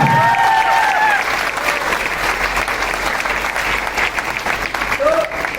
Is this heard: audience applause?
yes